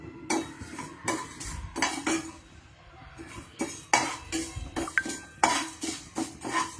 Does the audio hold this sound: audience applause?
no